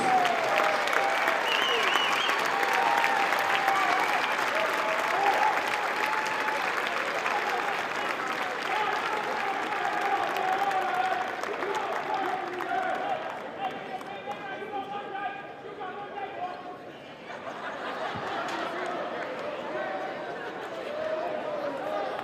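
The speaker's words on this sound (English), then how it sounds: "Fans, how about another big round of applause for your 2012 WCU Catamount seniors" Arena crowd applauding at a men's college basketball game between Western Carolina and Appalachian State, a long, loud, steady wash of clapping and cheering that eases slightly near the end, with some voices mixed in.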